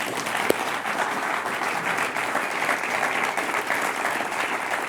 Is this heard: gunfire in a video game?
no